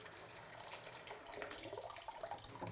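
Water runs steadily from a tap into a sous vide container being filled for a wild turkey cook, a continuous close rushing splash with no talking.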